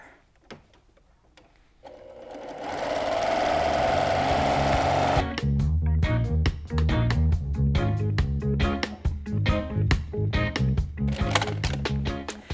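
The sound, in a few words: sewing machine stitching fabric strips for snack bag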